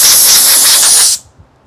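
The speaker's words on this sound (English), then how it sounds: "Then I'm just gonna use compressed air to clear out" A loud, continuous hiss of compressed air blasts through the filter of a Zehnder ComfoAir 200 HRV, then cuts off abruptly, leaving near silence.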